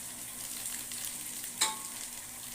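Fried onions for chicken biryani cook in a pan, giving a soft steady sizzle with a brief clink or stir partway through, close and without talk.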